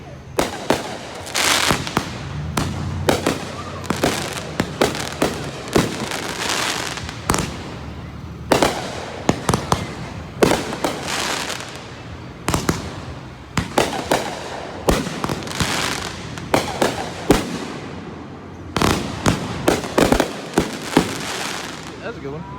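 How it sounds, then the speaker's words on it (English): A July 5th fireworks show bursts in a rapid, irregular string of loud cracks and booms, some clustered in crackling volleys, with short gaps between. "This is the July 5th fireworks show."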